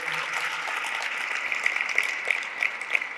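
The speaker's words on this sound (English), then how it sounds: "Just give us some claps, you'll see it on the video later." Gala guests give a round of applause, even steady clapping with a few sharper claps standing out near the end, heard at moderate distance in a large room.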